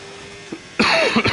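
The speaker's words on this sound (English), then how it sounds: "I do apologize for the coughing." A person gives a few rough, close coughs, loud and abrupt, over a steady background hum, with no talking.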